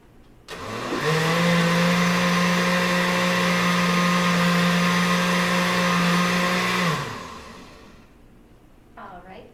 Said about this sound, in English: you're going to blend these until it's smooth